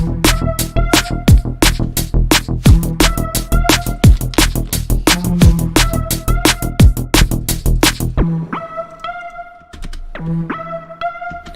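Omnisphere synthesizer patch in a drum and bass production setting, a bright pulsing pattern with punchy hits and a low bass layer, playing loud for about eight seconds before thinning to sparser tones; no voices.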